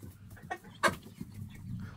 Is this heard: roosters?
yes